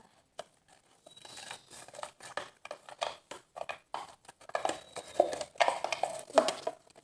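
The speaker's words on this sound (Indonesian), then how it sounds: "lotion pastinya kita aduk sampai betul-betul merata" Slime mixture being stirred with lotion in a bowl: close, wet, sticky squelching and scraping strokes repeating in an irregular rhythm, growing busier toward the end.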